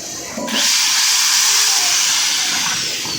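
A repaired angle grinder switches on after a brief quiet moment and runs steadily with a loud, high-pitched whine and hiss throughout.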